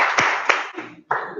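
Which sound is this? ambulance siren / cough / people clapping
people clapping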